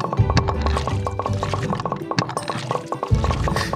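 Water pours and fills a container in Graveyard Keeper, a steady liquid trickle with rhythmic clinking drips, fairly close, with faint game sounds behind it.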